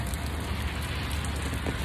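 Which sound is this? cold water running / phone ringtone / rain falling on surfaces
rain falling on surfaces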